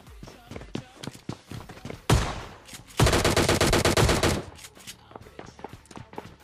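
DP-28 light machine gun fire in PUBG Mobile Lite during a solo-versus-squad fight, a short burst then a longer sustained rapid volley, loud and close, with scattered footsteps and thumps around it.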